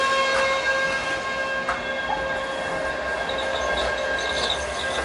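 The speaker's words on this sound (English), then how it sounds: "Just got a super tram coming past me" A Sheffield Supertram passes on a city street, giving a steady rumbling rail sound with high metallic wheel squeal tones, fairly close and continuous.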